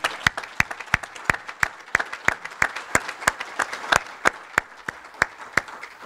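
A symposium audience on resilience at a community college claps in a sparse, uneven patter of distinct individual hand claps, steady and moderately loud for several seconds with no voices.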